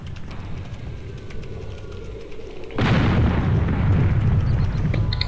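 A single loud airship cannon blast in the game Air Buccaneers, booming suddenly midway after a low ambient rumble and leaving a sustained roaring wash afterward; no talking.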